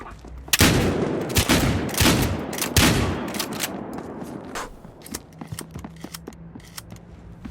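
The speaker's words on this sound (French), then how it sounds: "Il tire assez vite ce fusil à pompe, ça." Pump-action shotgun fired rapidly in the multiplayer video game Battlefield Hardline, a burst of loud close blasts in quick succession followed by fainter scattered shots and clicks.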